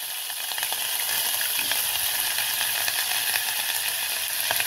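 Steady, loud sizzling of chicken frying in hot oil for curry-flavoured fried rice, with crackles and pops throughout and no talking.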